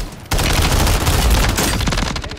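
In the video game Call of Duty, rifle gunfire erupts suddenly as a loud, dense volley of rapid shots that runs for about two seconds before easing slightly.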